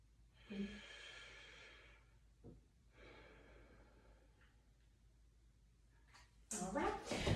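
A patient breathes in deeply twice during lung auscultation, each inhalation a soft, faint rush of air separated by a quiet pause, followed by a louder brief rustle at the end.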